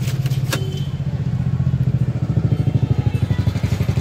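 Up close, a car's starter motor cranks in a steady rhythmic chug for several seconds while the engine fails to catch and fire.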